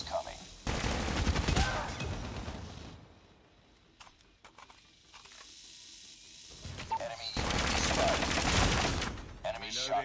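Rapid automatic gunfire from COD Mobile, loud dense bursts in two long stretches at the start and end, separated by quieter sporadic shots and game effects.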